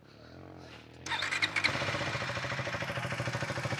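A KTM 390 Adventure R motorcycle with stock exhaust fires up after a brief crank and settles into a steady, throbbing idle, loud and close.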